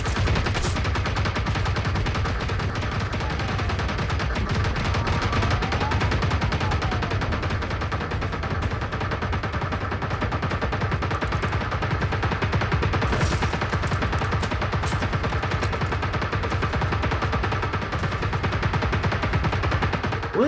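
Sustained automatic gunfire from the game Generation Zero, dense rapid bursts rattling continuously at steady loudness through the whole stretch, with no talk over it.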